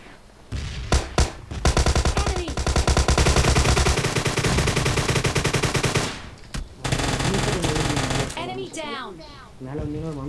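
In PUBG Mobile Lite duo gameplay, long sustained automatic gunfire rattles loudly and rapidly, stops briefly, then resumes with more shots. Voices talk over the later part.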